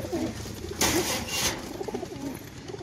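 A white female tumbler pigeon cooing softly in soft, rounded calls, with a brief broad rustling burst in the middle like flapping wings, heard close against a quiet background with no voices.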